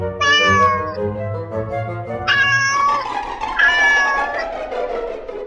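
A cat meows several times, drawn-out and close, with short pauses between the cries.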